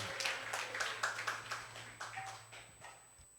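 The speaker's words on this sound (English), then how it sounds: "big round of applause for His Grace Krpamaya Gauranga Prabhu" An audience at a devotional gathering gives sparse, faint applause: a handful of distinct claps that trail off over a low steady hum.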